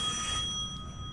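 A telephone rings with a thin, steady electronic trill, faint and somewhat distant over a low background hum, lasting only about a second.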